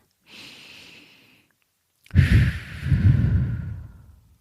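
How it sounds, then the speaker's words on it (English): A slow, deep breath: a soft airy inhale, a brief pause, then a louder, longer exhale that fades out, close and with no talking. "Take a nice, slow breath right now, a nice, slow one, and exhale it."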